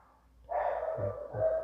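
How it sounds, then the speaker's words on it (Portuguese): Dogs in the neighbourhood bark a couple of times nearby, short rough yelps in quick succession after a brief quiet start. "Tem cachorros aqui na vizinhança da tenda, está fazendo um pouco de barulho."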